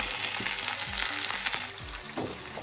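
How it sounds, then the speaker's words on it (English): Kangkong stalks hit a hot pan for a Filipino stir-fry with tofu and oyster sauce, giving a loud, continuous sizzle with stirring scrapes and clatters close by. "now we're gonna add the kangkong stalks"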